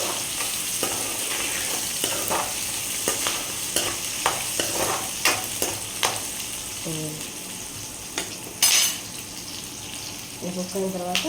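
A cooking dish stirred in a pan, with a steady sizzle under repeated scraping strokes of a spoon against the pan, some sharper clinks, and a few brief bursts of voice near the end.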